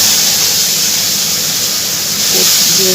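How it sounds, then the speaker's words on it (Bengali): Fish frying in a pan at home, a loud steady hiss of hot oil with a brief faint voice near the end. "এখন মাছটা ভাজবো"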